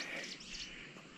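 Small birds call and chirp around a forest trail on the Deoria Tal trek in the Himalayan hills, faint and steady, with an airy outdoor hush and no voices over the short stretch.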